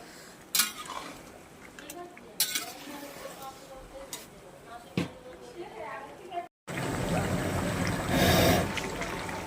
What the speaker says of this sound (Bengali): চিকেন মশলাটা দিয়ে এবার নাড়ছি,